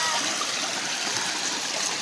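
Stream water flows where bottles of Coke are chilled, a close, steady rushing hiss of running water that fills the whole moment without pause.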